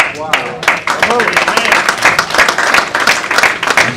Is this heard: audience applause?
yes